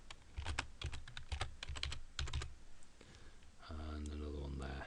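Rapid clicking keystrokes on a computer keyboard, typed in quick uneven bursts, close and fairly quiet, followed near the end by someone talking.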